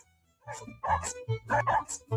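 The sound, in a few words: dog barking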